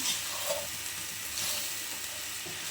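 Okra and meal maker fry in a pan with coriander and cumin powder, giving a steady close sizzle with faint stirring scrapes throughout and no talk.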